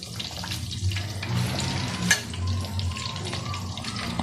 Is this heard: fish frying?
yes